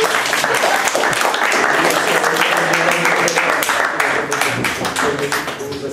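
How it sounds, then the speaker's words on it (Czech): Applause from an audience at a school competition results announcement, a dense steady clatter of many hands lasting throughout, with a voice briefly audible underneath. "Musí zasloužit potlesk."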